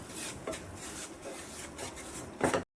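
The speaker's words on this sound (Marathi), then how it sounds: "त्यात आपण हे रागीचं म्हणजेच नाचणीचं पीठ घालून भाजून घ्यायचं आहे" Ragi (finger millet) flour being roasted in ghee and stirred in a pan, heard as close scraping and rubbing strokes that repeat at an uneven rhythm, ending in a louder scrape.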